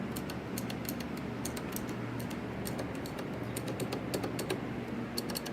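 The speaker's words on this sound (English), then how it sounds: "It's got Cherry MX blue key switches." Brisk, continuous typing on a WASD Model V1 keyboard fitted with Cherry MX blue switches, sharp clicky keystrokes rattling close and clear at an uneven rhythm, with no talk over them.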